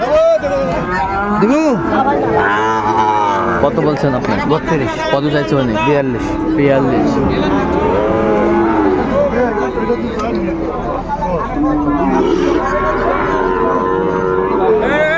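Sahiwal bulls at a cattle market low repeatedly amid the crowd, deep moos rising over constant bargaining chatter and overlapping voices of traders nearby.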